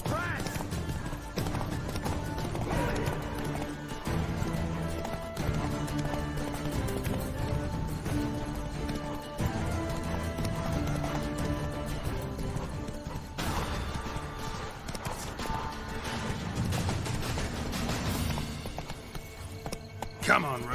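Roach the horse gallops in The Witcher 3, rhythmic hoofbeats running steadily under game music and intermittent talk, with a snort or whinny and a crash near the end.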